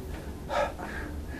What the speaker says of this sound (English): Try some deep breaths through your mouth.